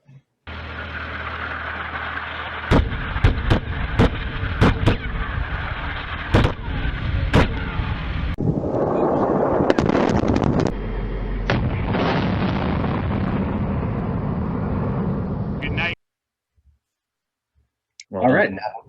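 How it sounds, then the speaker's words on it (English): Explosion sound effects pile up as a series of loud, sharp bursts and pops over a rumbling, crackling bed. They are close and dense, then fade to silence, and a brief sound returns at the end. "we've decided to add a bunch of explosions, make it more interesting for everybody"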